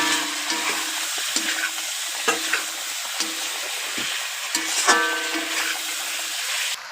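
Potatoes go into meat frying with yogurt for biryani, a constant loud sizzle broken by regular scraping stirs of a spatula against the pot.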